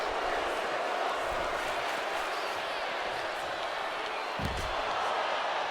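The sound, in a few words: crowd chanting in a wrestling video game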